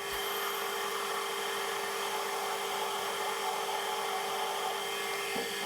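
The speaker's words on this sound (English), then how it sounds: "It's a 6mm broach, so drill a 6mm hole" A drill bores a 6mm hole in metal ahead of broaching, a steady high whining hiss that holds unbroken and fairly quiet throughout, with no talking.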